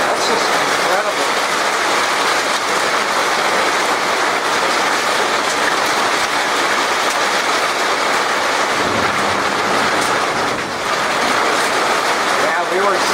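Strong wind blows straight in during a supercell storm with thunder and hail, a loud, unbroken broadband roar that barely dips from start to finish.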